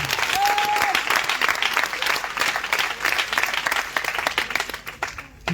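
A church congregation bursts into loud, sustained applause, dense crowd clapping that carries on for several seconds before tapering at the end, with a brief voice at the start.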